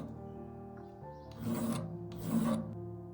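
A grade 00 jewelry file rasping a surface in two coarse, aggressive strokes, close and distinct over a faint background hum.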